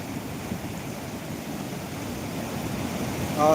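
Heavy water pours over the weir of a small pond at Velchala, Karimnagar district, after strong rain, a steady close rushing roar with a sudden louder burst at the end.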